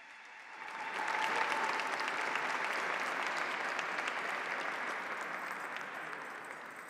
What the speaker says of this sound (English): Let's have another round of applause for our Red Lightning Woman Power singers.